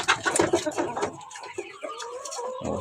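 Chickens being let outside give a busy burst of clucking and squawking up close, thinning into scattered softer calls amid rustling, with a voice speaking faintly in the background.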